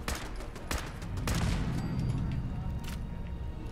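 Automated turrets rattle off machine-gun bursts in a Fallout 4 firefight, dense overlapping gunfire and booms filling the whole stretch at close range, with a voice speaking faintly underneath.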